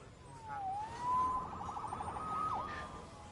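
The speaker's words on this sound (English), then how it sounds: "Saved by the siren." Police siren in the Marvel's Spider-Man video game, wailing and sweeping up and down in pitch at a moderate distance, with a brief yelp near the end, over low city background noise.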